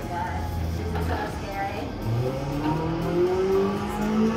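Simulated F1 race car engine in Gran Turismo 7 played in VR, a steady droning, rising revs with shifting pitch that climb through the run, heard under a background voice.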